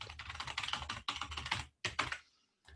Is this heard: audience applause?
no